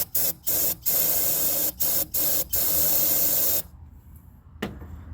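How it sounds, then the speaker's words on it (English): Short bursts of aerosol carb cleaner sprayed into the throttle body of a 2016 Dodge Challenger that cranks but won't start, several quick hissing spurts followed by one long spray, then quiet with a faint click. "I'm gonna just spray a little bit of carb cleaner right in there where the throttle body is"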